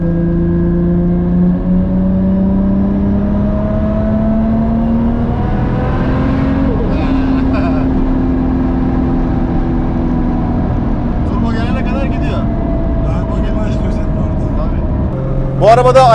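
A 1400 hp turbocharged Toyota Supra MK4 with a drag transmission, its engine droning with rising and falling pitch as it revs, loud and close, while someone talks over it.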